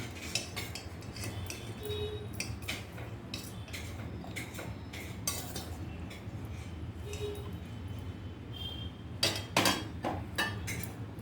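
Metal utensils clink and scrape against a pot and bowl as cooked jackfruit pieces are scooped out for biryani, light irregular taps running steadily with a few louder clanks near the end.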